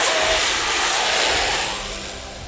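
A small aircraft's engine drones overhead while landing at Gustav III Airport on St. Barthélemy, known for its short runway, a loud close roar with a faint steady whine that gradually fades as it passes.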